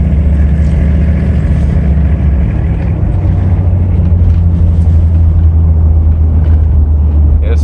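A 1977 custom Chevy van cruises along the road with a loud, steady low engine rumble and drone. The sound is constant from the cabin and continues throughout.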